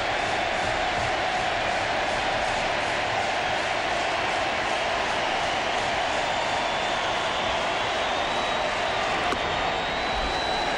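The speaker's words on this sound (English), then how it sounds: "Crowd chanting Beckett, Beckett, Beckett." Dense, steady crowd roar fills a packed ballpark during a 2003 NLCS playoff game between the Cubs and Marlins, fans chanting pitcher Beckett's name in a continuous, loud wash of voices with no break.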